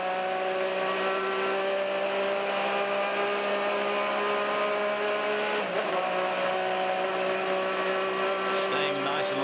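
A race car engine drones steadily at high revs from inside the cockpit at the 2002 Daytona 24 Hours, with a brief shift in pitch midway and constant wind roar.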